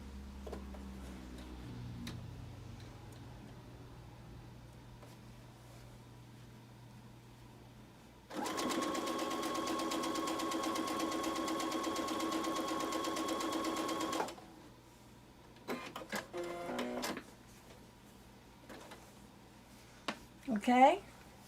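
A sewing machine stitches a Dresden Plate quilt block in one steady, rapid run of about six seconds, fairly close and clear, with quiet handling noises and a speaking voice before and after.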